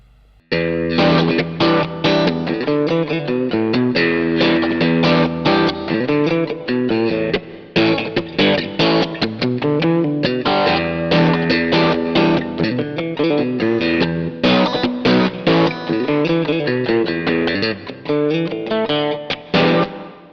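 Electric guitar chords are played through a Wampler Pinnacle distortion pedal, loud and thick with saturated gain, strummed continuously in a driving rhythm for the whole stretch.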